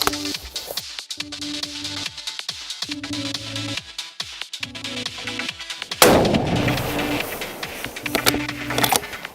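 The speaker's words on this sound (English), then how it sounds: "We're shooting on this Titan rifle in 308" Rifle shots from a Titan rifle in .308 fitted with a Zeiss Conquest V6 scope, a run of loud sharp cracks with booming echoes, the reports coming repeatedly in close succession under a steady outdoor background.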